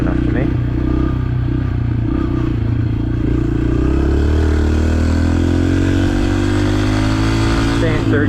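A dirt bike lapping in third gear, with a loud close engine roar that rises and falls as it revs and clatters, with a rider's voice heard over it.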